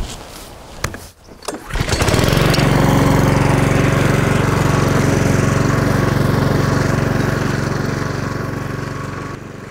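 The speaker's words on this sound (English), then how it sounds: "I'm going to get on mowing, because as you can see, I've got a fair bit to do with the mowers." A garden lawn mower mowing grass: a short burst of rattling as it starts, then a loud, steady engine drone running continuously close by.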